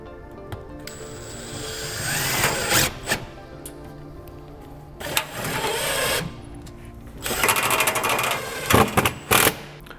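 A power driver sends screws through a board and batten siding panel into the wall, with several short whirring bursts separated by pauses and clicks as each fastener is driven home nearby.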